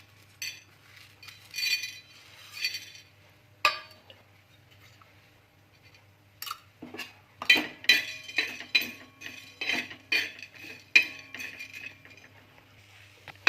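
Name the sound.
dry-roasting whole spices in a pan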